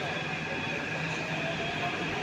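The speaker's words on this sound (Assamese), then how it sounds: "মেট্ৰ' ট্ৰেইনৰ পৰা নামিলোঁ" Metro train running at Hussain Sagar in Hyderabad, a steady, loud broadband rumble and hiss of rail carriage noise that fills the whole moment without a break.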